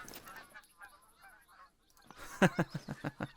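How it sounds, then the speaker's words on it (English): A skein of geese in the hunting game theHunter: Call of the Wild honks from a distance, soft scattered calls first, then a louder burst of rapid, rhythmic honks toward the end. "Multiple geese. There they are."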